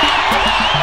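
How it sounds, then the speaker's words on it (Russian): A crowd gives loud, stormy applause mixed with whoops and cheering, a dense continuous wash of clapping that fills the whole moment. "а бурных аплодисментов."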